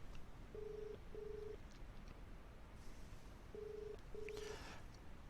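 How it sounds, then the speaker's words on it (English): Four short DTMF keypad tones, paired two and two, as a phone dials a number during a HubSpot phone integration, over steady faint background hiss with no talking. "Now that's actually going to go off and call my phone number."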